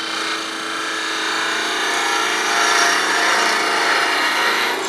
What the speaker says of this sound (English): Now I'm going to switch to a little bit smaller gouge, so 3/8 inch, that was a 1/2 inch.